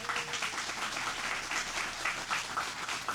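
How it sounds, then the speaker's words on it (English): Audience applause at an outdoor sweetpotato field day greets a newly introduced extension director. The clapping is steady and crowd-wide, sustained and fairly even throughout. "Give him a round of applause."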